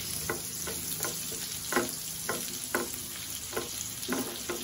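Onions sautéing in hot oil for a spicy buttered tuna dish, a steady close sizzle and crackle broken by regular soft stirring scrapes about every half second.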